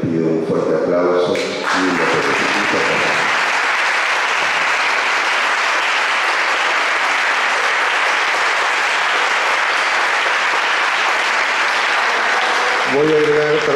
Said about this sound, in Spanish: y para quien les pido un fuerte aplauso